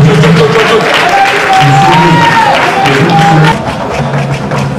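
Applause and crowd noise at a league football match between EFYM and ASEC as the teams come out, loud and continuous under a commentator's voice.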